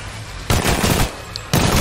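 Automatic gunfire in Apex Legends comes in two loud, close bursts: a longer rattling volley followed by a pause, then a second burst starting near the end.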